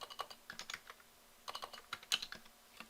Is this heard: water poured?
no